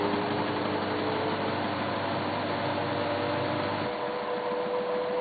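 A washing machine drains and spins a delicates load with a steady, close mechanical hum and whir that shifts tone partway through as the spin takes over.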